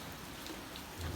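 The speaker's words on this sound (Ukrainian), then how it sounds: "І 6 градусів зараз у нас і дощ іде." Rain falls on a cold day at an apiary, a soft even hiss of drops on surfaces that continues steadily, a little fuller toward the end.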